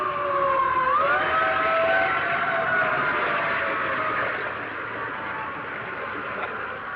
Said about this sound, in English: Hey, Fire engine!